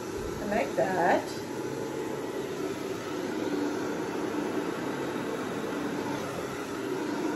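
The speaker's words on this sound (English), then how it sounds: "Hairdryer is a little bit less power than the other one I have." A hair dryer blows steadily over a poured acrylic paint canvas, giving a continuous broadband airflow roar throughout, with a brief clatter near the start.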